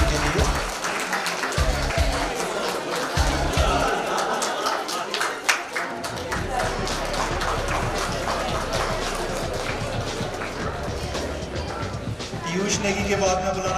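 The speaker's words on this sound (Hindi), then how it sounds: "तो जोरदार तालियां के लिए पीयूष नेगी के लिए" Crowd applause at a state school chess championship for under-15 players, broken and uneven at first, then settling into sustained clapping with a murmur of voices mixed in.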